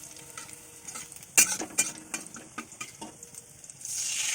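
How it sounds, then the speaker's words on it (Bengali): Chopped onions fry over high flame in a pan for homemade momo filling, with clinking stirs and scrapes of a utensil over a soft sizzle that swells louder near the end. "পেঁয়াজগুলোকে হালকা হালকা লাল লাল কালারের করে ভেজে নিতে হবে।"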